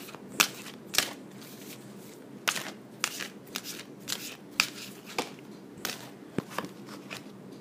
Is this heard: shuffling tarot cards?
yes